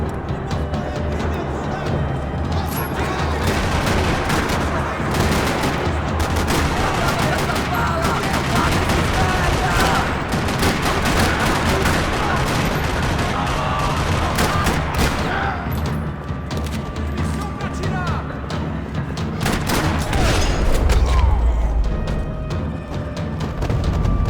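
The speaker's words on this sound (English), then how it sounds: "Another parking lot rattling with gunfire." Gunfire in a parking lot in the video game Max Payne 3: dense, sustained bursts of automatic fire and rattling shots, loud and continuous throughout, with occasional heavier booms and brief voices.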